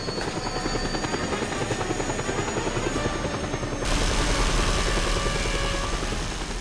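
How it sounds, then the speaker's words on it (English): Helicopter in the video game Just Cause 2, with a continuous rotor thrum and engine drone heard up close that grows noticeably louder partway through, with no voices. "let's steal a helicopter and leave this base"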